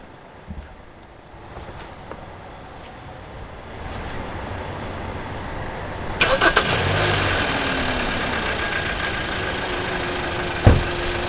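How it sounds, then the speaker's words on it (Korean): A Hyundai Grandeur IG 2.4 engine cranks and catches, then settles into a steady idle hum with wind noise in the background. "시동 한번 잘 걸렸고요"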